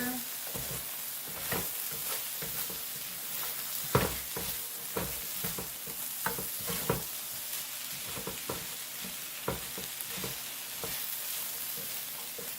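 Sweet potatoes frying in a pan are stirred with a steady stream of scraping strokes over a constant sizzle, close and fairly loud, with no voices.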